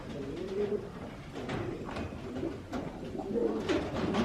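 Racing pigeons coo softly and repeatedly nearby in a loft, several birds overlapping with low burbling calls and some wing rustling in an enclosed space.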